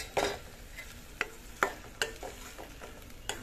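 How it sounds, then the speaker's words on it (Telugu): Onions and garlic cloves sizzle softly in oil while a spoon stirs and scrapes the pan in several sharp, close knocks against a steady frying hiss. "ఆయిల్లో ఉల్లిపాయలు, వెల్లుల్లి రెబ్బలు ఇవన్నీ కూడా మగ్గాలండి"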